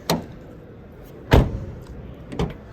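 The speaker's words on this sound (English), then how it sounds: "considering how light the doors are, it's a solid closing sound" A 2022 Dacia Spring Electric car with light doors being shut, giving several dull thumps close by. One solid slam stands out in the middle, and lighter knocks come before and after it.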